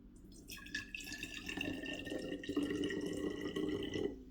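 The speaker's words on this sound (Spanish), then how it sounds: "una vez que tengamos nuestra mezcla, la vamos a echar en nuestro otro recipiente" A liquid mixture pours and splashes into another container, a close, continuous gurgling trickle that grows fuller as it goes.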